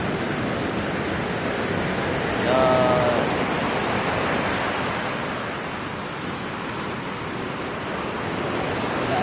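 Big sea waves surging up to a seawall at White Sand beach, the beach sand fully covered, make a steady, loud broadband roar of surf throughout, with a brief voice in the middle.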